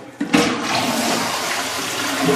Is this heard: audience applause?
no